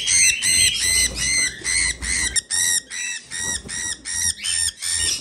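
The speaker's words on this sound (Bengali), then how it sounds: "যেহেতু পাখিগুলোর ডাক ফুটেছে" Young pet birds in a cage give a run of about a dozen shrill, evenly spaced squawking calls, loud and close, with no voices.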